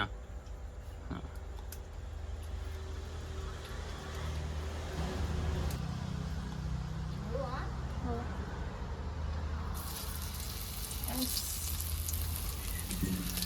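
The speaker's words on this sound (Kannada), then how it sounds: "ಸೊ ಫ್ರೆಂಡ್ಸ್ ನೋಡಿ, ಪಾಪ್ಲೆಟ್ ಫ್ರೈ ಆಗ್ತಾ ಇದೆ." Pomfret fish fries in hot oil in a pan on a wood-fired stove, giving a steady sizzle under voices talking nearby, with the frying hiss brightening in the final seconds.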